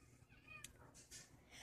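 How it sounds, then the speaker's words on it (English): A cat meows a few times, soft and fairly close, with faint background noise between the calls. "stop meowing"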